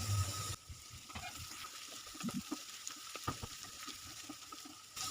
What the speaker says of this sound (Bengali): আমি এখানে আদা কুচিটা দিয়ে দিচ্ছি।